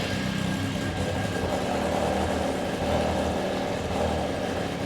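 A Ducati Supersport replica motorcycle engine runs steadily, a dense, even mechanical roar at constant level with no talking over it.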